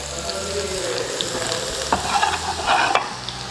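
Chopped garlic frying in a generous amount of hot oil in a pan, a steady close sizzle with a few brief clicks and stirring scrapes, and no talking.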